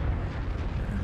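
A tank cannon shot in World of Tanks, a Centurion Mk. 1 firing, as a dense, continuous low boom that fills the whole brief moment at steady loudness with no talk over it.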